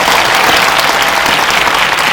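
A cinema audience at a Korean film screening and Q&A for the musical film Hero claps loudly and continuously, a dense, even roar of applause with no voices.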